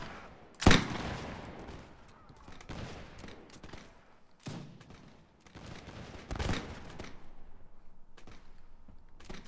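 Musket volleys in Mount & Blade: L'aigle crack out as one sharp near shot followed by scattered, more distant reports and a later cluster of shots, with no voices.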